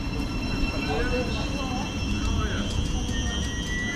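A Class 700 electric train, unit 700051, arrives at a platform on the southern East Coast Main Line. Its steady, loud, close rumble carries a sustained high electric whine throughout.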